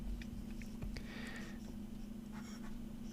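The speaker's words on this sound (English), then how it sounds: "So let me just write down." Pen scratching ink onto paper in short strokes and scribbles over a steady low hum, close and faint, with no talking.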